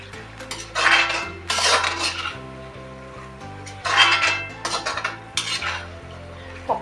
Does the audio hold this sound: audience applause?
no